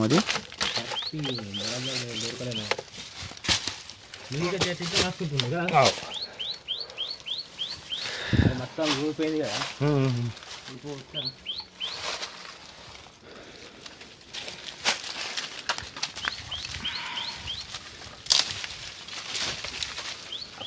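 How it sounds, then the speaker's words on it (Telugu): Small birds call inside an old fort tunnel at Nirmal, quick high chirps repeating in short bursts through the passage, mixed with crinkling and shuffling noises and stretches of people talking. "ఇప్పుడు వినిపిస్తున్నది చిన్న పిట్టల యొక్క శబ్దం"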